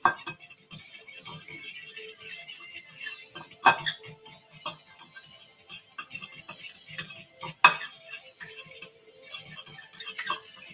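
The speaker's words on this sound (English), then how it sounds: "you can just use a fork to scramble them up a little bit" A fork scrambles eggs in a bowl, making quick, light clicking taps against the side with a couple of sharper clinks, close up and fairly quiet.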